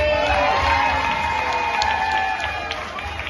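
An audience claps and cheers after a salsa dance show at a charity dance event, with steady applause and scattered whoops that fade slightly toward the end.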